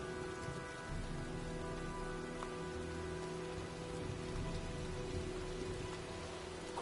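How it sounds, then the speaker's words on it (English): Steady heavy rain pours with an approaching storm in the Heavy Rain video game, a dense, continuous hiss of drops on surfaces with faint low rumbles beneath, evenly loud throughout. "looks like a storm's coming."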